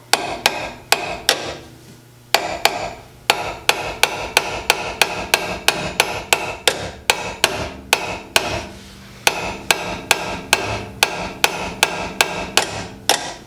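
Repeated sharp hammer blows ring out against metal brake parts on a Toyota AE86 in a steady rhythm, roughly two per second, with a few short pauses between runs of strikes.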